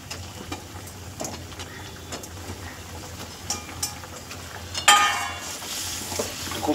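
Red-fried chela fish slid into boiling water for a Bengali mustard-poppy curry: a low steady simmer with scattered clinks, then one sharp splash-sizzle burst that settles into continued bubbling.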